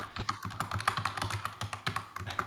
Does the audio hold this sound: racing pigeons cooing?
no